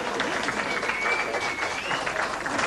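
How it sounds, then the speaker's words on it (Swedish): An audience at a comedy show breaks into dense, sustained applause, with a voice faintly audible beneath the clapping. "men det är underbart. En applåd!"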